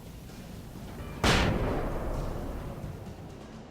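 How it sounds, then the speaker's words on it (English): A single sharp flashbang grenade blast in the Alan Wake video game, a sudden loud bang that rings out and slowly decays against a low ambient background. "Flashbangs fuck them up."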